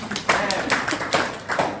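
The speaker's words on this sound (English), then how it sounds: "Go on, give yourself a little clap." A small workshop group gives themselves a brief round of clapping, scattered hand claps overlapping for under two seconds with a voice faintly underneath.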